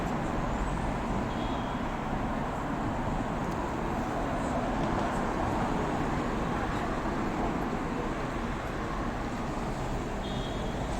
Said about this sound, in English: Busy traffic.